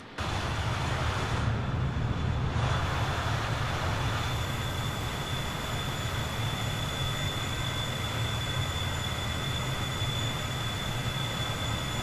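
Steady roar and whine of BAe 146 airliner engines in a flight simulator, a continuous dense rush with fixed high tones, loud and unbroken with no talk.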